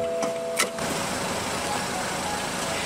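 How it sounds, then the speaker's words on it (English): Power windows on a 2015 BMW 328i whir briefly at the start, a short electric motor hum heard over the steady idle of the car's engine. "All windows are fully automatic in the 3 Series."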